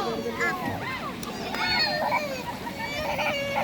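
People bathe and splash in a river on a hot summer day, with light watery splashes and children's voices carrying through steady background chatter from the bathers.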